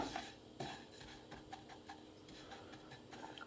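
A utensil stirs a crumbly coconut and macadamia keto pie mixture in a pan over medium-high heat, giving faint close scraping and light ticking clinks in a steady, irregular rhythm.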